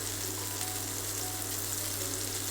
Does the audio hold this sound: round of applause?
no